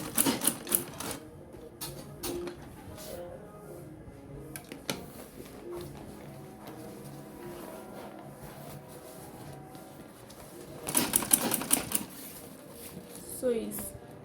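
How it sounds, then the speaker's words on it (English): A sewing machine stitches around the edge of a homemade fabric lunch bag in quick rattling bursts, with a long quieter stretch between the busy opening and later runs. "We are just sewing it round."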